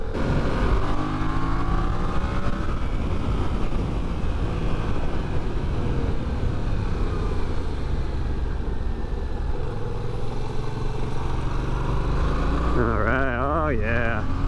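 A Yamaha XS motorcycle accelerates out of a corner, its engine droning loudly under heavy wind rush and rising in pitch through the gears, with a voice briefly heard near the end.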